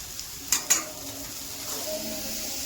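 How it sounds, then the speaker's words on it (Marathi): A spoon stirs moth beans (matki) in a pan with turmeric and salt: two sharp clinks of utensil on metal near the start, then a soft, steady scraping sizzle at low level. "आता हलवायचं मस्त त्याला."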